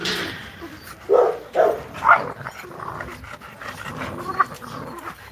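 Dogs at feeding time on beef from a whole processed cow, with a few short barks and yips near the mic over panting and low rustling, lightly mixed with faint voices.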